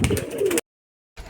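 A flying-breed pigeon coos close by in a short, low, rolling call that cuts off into silence, then a faint resumption.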